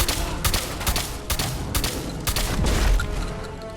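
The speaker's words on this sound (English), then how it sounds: "I'm just gonna keep shooting for the legs and then let Cito beat him to death" Rapid gunfire rattles through a Fallout 4 fight, a dense run of sharp repeated shots in uneven bursts, loud and close, with combat noise filling the gaps between them.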